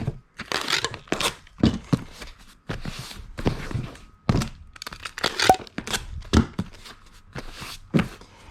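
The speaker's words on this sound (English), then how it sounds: "I'm going to go ahead and get this guy taped up" A shipping box packed with peanuts gets taped shut, with crackling tape, cardboard thumps and crinkling in loud, irregular bursts close by.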